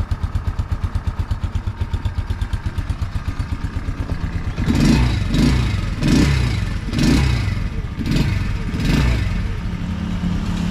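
A cold Avelloz moped engine idles with a rapid putter, then revs up in several rising bursts that fall back between each, loud and close.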